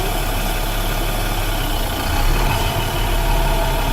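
A tractor-trailer truck's engine idles during an air brake test, a steady, loud low rumble that holds even throughout, with a slight swell partway through and no talking.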